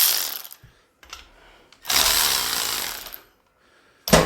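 A cheap cordless ratchet spinning at about 230 RPM, heard as short whirring bursts close by, with one longer loud run in the middle separated by near silence.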